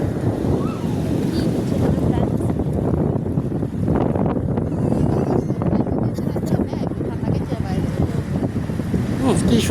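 Cool sea wind blows steadily into the microphone at Jeddah beach on the Red Sea coast, a constant rushing roar with waves breaking underneath and a voice talking over it throughout.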